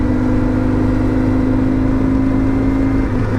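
A 1989 motorcycle engine runs steadily while riding, a loud continuous mid-pitched drone with a constant hum and no break for the whole stretch, no voices over it.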